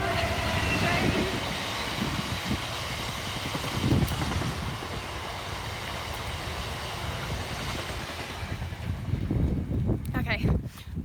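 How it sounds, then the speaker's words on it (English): A train rumbles past nearby in a long, steady roar with clattering wheels and buffeting microphone wind, a person talking briefly over it. "there is a train coming"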